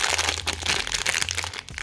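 A Capsule Chix toy capsule's plastic packet crinkles and crackles continuously up close, with a faint low hum underneath.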